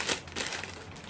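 A plastic bag is crinkled up close while a Halloween trick-or-treat box is unboxed, giving a brief, steady rustle that lasts about a second.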